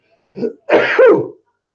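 A single loud, close sneeze with a short intake before a sharp burst, heard alone.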